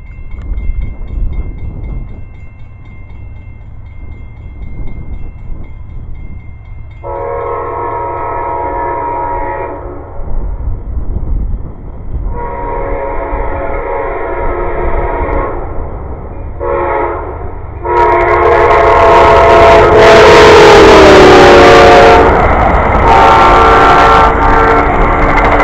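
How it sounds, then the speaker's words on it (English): A train rumbles past nearby with rolling wheel noise, sounding several long blasts of its horn in separate bursts before a louder, closer roar of passing cars and a final sustained horn. "And there it goes, another train."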